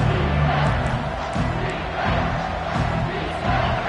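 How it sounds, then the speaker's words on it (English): Football stadium crowd at a bowl game roaring and cheering ahead of a big third down, a dense, steady wall of massed voices with rhythmic swells of chanting, loud and continuous throughout. "The crowd elevating its energy, willing this defense to get a stop on this big 3rd down"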